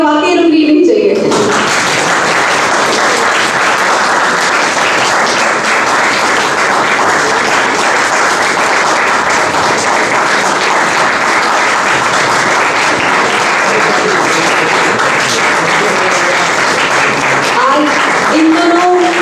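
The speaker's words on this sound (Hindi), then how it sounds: "आपकी तालियां वाकई रुकनी नहीं चाहिए।" Sustained, loud applause from a theatre audience at a drama festival in Ambala, a dense wall of clapping that carries on unbroken for nearly twenty seconds.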